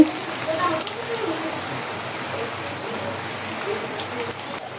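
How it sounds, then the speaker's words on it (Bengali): Steady rain hisses across the whole stretch, a soft wash of falling water with occasional faint patters, moderately close. "বৃষ্টি পড়ছে"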